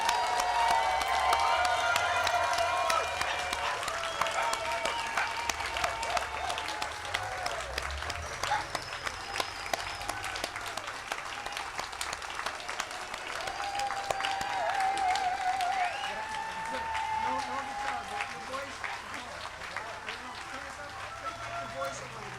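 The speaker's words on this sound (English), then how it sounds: "I want you now collectively to give them all a warm welcome and a warm applause." Audience at an outdoor peace wall ceremony in Sebastopol gives sustained, dense applause that fades slightly toward the end, with scattered voices and a few cheers mixed in.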